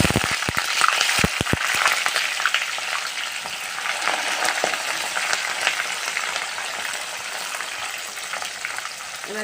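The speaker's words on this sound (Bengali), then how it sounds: "এবারে আমি দুটো পেঁয়াজকে কুচি করে নিয়েছি, কাঁচা লঙ্কাকে চেরা করে নিয়েছি। এবারে দিয়ে দেবো তেলের মধ্যে।" Chopped onions and slit green chillies sizzle and crackle loudly in hot oil, starting with a burst of sharp pops as they hit the pan and settling into steady close frying with occasional stirring, no voices.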